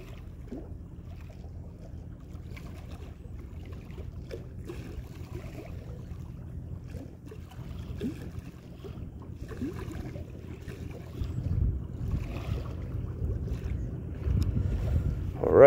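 Wind gusts on a windy day while a Hubsan Zino Mini SE drone is flown outdoors: a steady low rumbling buffet that swells louder toward the end, with no talking.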